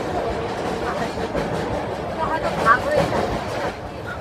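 The Kavi Guru Express rolls on rails, heard as a steady, fairly loud rumble with faint rhythmic clatter and muffled voices in the background throughout.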